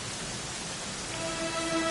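Steady rain in Dragon Quest XI, a broad, even hiss of falling water throughout, moderately loud with a faint tonal hum emerging toward the end and no one speaking.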